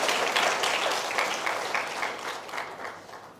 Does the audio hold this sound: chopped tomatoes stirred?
no